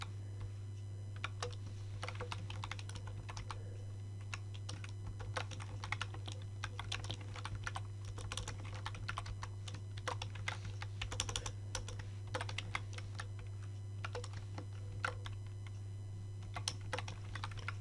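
Rapid, uneven keyboard typing, light clicky keystrokes in bursts over a steady low electrical hum, fairly close and quiet.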